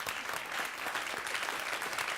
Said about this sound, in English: Could I have a round of applause for that?